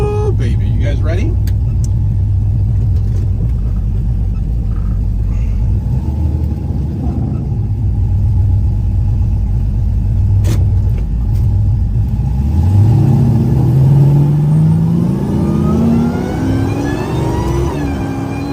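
Supercharged Dodge Hellcat muscle car revving hard and accelerating from inside the cabin, a loud steady engine roar whose pitch climbs sharply in the second half as it pulls to high speed, with someone talking over it.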